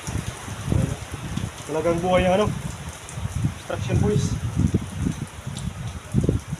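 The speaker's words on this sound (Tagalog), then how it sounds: "Oh, lakas ang ulan." Heavy rain pours steadily at an outdoor construction site, a broad hiss with occasional louder patters, while workers talk over it.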